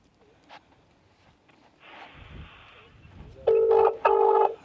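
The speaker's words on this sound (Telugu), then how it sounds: "రింగ్ అవుతుంది" Faint handling noises give way to a phone's ringback tone, two loud electronic rings in quick succession near the end.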